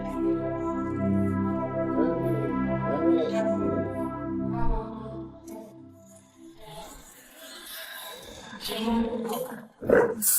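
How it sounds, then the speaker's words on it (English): Hunting dogs bay a cornered wild hog, with repeated howling and barking up close, then rougher scuffling and yelps mixed with noise toward the end. "The dogs are baying him."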